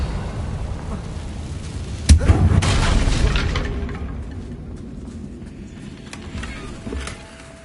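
A spell blast in the Hogwarts Legacy game strikes a damaged bridge with a loud, sudden boom, followed by crackling debris and a rumble that slowly fades, all over steady game ambience.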